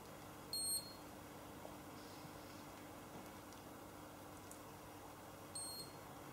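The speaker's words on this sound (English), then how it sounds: "That final beep just tells me again that I've come to the end of that phase" A galvanic facial spa machine gives two short, high electronic beeps about five seconds apart, faint above a quiet, steady room hiss.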